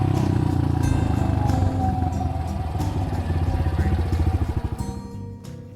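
A KDX200 dirt bike engine revs hard through a wheelie, loud and close. Its buzzy, harmonic-rich note holds steady, then breaks into rapid pulsing throttle blips as it backs off near the end.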